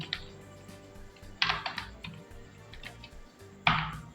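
Quiet keyboard typing in MS Access, a few clusters of quick key clicks separated by pauses, close and clear against a low hum, with no talk.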